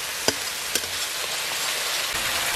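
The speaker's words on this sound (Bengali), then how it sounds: "এরপর আমি দিয়ে দেবো ভিজিয়ে রাখা মশলাটা। মশলাটাকে আমি খুব ভালোভাবে কষিয়ে নেব।" Soaked spice paste fries in oil in a pan for a raw jackfruit and paneer curry, giving a steady close sizzle with a couple of brief stirring knocks near the start.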